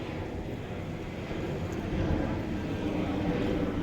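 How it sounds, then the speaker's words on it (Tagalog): A low, broad airplane rumble builds steadily as the aircraft nears the airport in Kalibo, Aklan. It sounds distant and blends with wind noise, and no one speaks. "Mag-alas 11 na yata eh, yung eroplano andito na"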